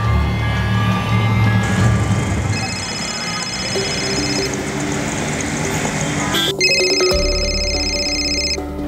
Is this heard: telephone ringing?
yes